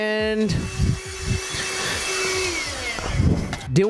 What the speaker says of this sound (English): Here's the vacuum, and as you can see, look how clean it is.